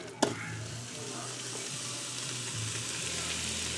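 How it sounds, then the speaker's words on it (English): Thinly sliced steak for Philly cheesesteak hitting a hot pan, a sharp sizzle burst at the start settling into a continuous frying hiss, with faint background voice. "It's getting hot, so I'm gonna add the steak."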